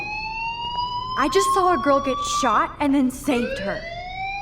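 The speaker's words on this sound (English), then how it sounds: "Hey, do you hear that fire alarm? That means you should be outside." A fire alarm in Life is Strange sounds as a steady high electronic tone that runs through the whole stretch, close and constant under a voice speaking.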